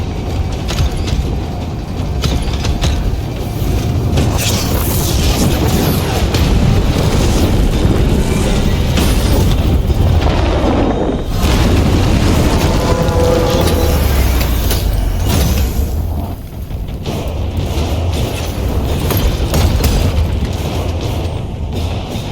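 A dropship makes an emergency crash landing in the game Total War: Warhammer 40,000, a loud continuous roar of engines and rumbling booms with grinding mechanical noise that barely lets up.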